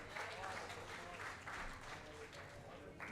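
An audience at an open-mic performance during an awards event claps for a performer. The applause is faint and fairly distant, rising and falling in a few waves, with some speech mixed in.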